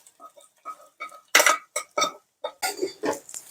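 A spoon scrapes and clinks in a cooking pan while vegetables for a North Karnataka-style palya are stirred, a quick run of short, close metallic strokes with no talk.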